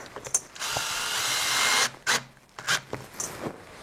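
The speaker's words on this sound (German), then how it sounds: "Dann nehmen wir jetzt einfach eine Schraube und bohren da mal in der Mitte rein." A screw is driven into the marked centre line of a wooden French cleat saw-blade holder, a loud steady whir for over a second followed by several short, sharp bursts.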